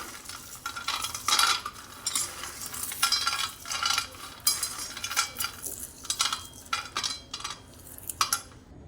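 Roasted peanuts have their papery skins rubbed off by hand, making dry, crackly rustling in uneven bursts that run continuously and fairly close, with no voices.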